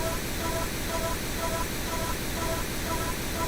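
Steady broadband pink noise sits in a music mix as a constant, even hiss with no breaks and no voices, holding the same level throughout.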